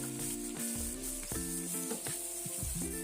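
Boiled beef goes into a pot of fried onions and sizzles, a steady close hiss of frying meat with light stirring, while a faint tonal hum sits underneath.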